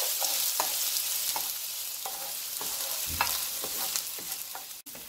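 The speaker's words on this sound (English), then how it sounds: "we're going in with all of our onions. We're going to stir these around for about a minute or two" Onions sizzling in hot oil in a pan for Guyanese beef patties, a constant close fry with regular spoon strokes stirring them around, no voices.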